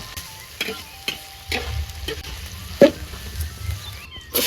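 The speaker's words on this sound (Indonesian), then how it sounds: "Terine digoreng sik" Anchovies frying and being stirred in a pan for a village-style chili sambal, with scattered scraping clicks of the spatula over a low, steady sizzle, plus a sharper knock near the middle.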